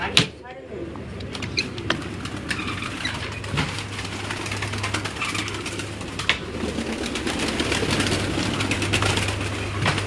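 Neel dum pigeons coo softly in a loft, low throaty calls rising now and then beneath someone talking near by, with occasional wing flaps and a faint engine hum.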